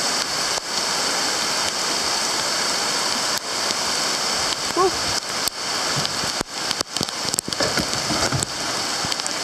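A swollen river near flood level rushes steadily nearby, a dense continuous roar of flowing water broken by a few brief knocks and handling sounds.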